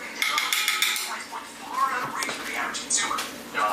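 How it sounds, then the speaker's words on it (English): A teaspoon drops pumpkin into puppy bowls and stirs it around, making light clinks and scrapes against the dishes while someone talks quietly. "And I plop one in each of their bowls, and we just mix it around."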